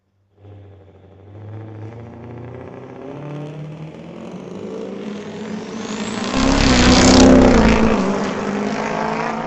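Diesel pickup trucks, a 2007 Dodge Cummins and a 2005 Ford F350, drag racing at a raceway: deep engine roar builds as they launch, swelling to a loud revving peak nearby before easing off.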